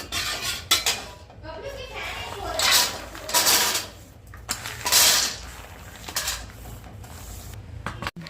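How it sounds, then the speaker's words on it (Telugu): Dry fruits being roasted in ghee in a pan for laddus: intermittent clinks and scrapes of a spoon stirring against the pan come in short bursts, close by, with someone talking over them. "నేతిలో వేయించుతున్నా, అన్నీ కలిపి వేయించుతున్నా."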